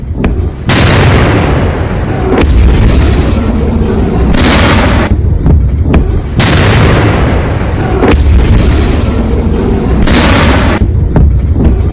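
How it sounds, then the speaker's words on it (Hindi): Missile strikes explode on an airbase in a series of loud, heavy booms and blasts, one after another over a constant roaring rumble, with several sharp bursts. "एक के बाद एक मिसाइल हमले हुए इस एयरबेस पर"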